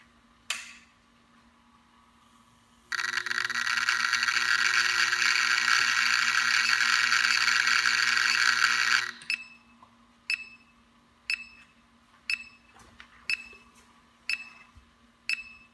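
A homemade X-ray machine is cranked up: a loud, steady buzzing whir holds for about six seconds, then cuts off, followed by a string of sharp, evenly spaced clicks.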